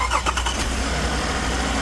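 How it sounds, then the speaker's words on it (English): A car engine cranks and fires during a battery and alternator check, a brief starter whirr catching into a loud steady idle close by. "Now let's start the engine and check how much we have voltage drop."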